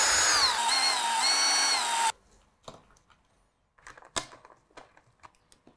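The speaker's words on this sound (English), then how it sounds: "I'm going to drill two holes and screw them on." A power drill bores two holes in bottle rocket fins, whining loudly and close for about two seconds with pitch changes, followed by quiet scattered clicks and handling knocks.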